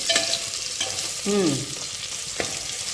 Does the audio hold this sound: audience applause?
no